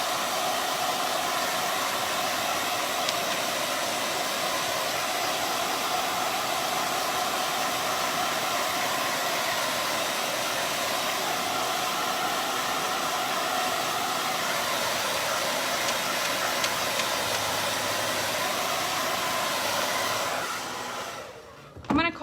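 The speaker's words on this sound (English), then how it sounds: "now I'm gonna have to turn my fan or my blow dryer back on, and let's see if we can get some of this teal dry" A blow dryer runs steadily and loudly for about twenty seconds while it dries teal paint on a piece of yard art, then clicks off near the end.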